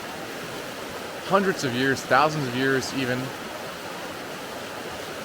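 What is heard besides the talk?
water falling at the Suri tribe's shower spot, Omo Valley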